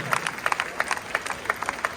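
Crowd clapping at half-time of a RoboCup humanoid robot soccer final, a loose patter of individual claps spread through a hall, fairly distant, with voices faintly mixed into the background.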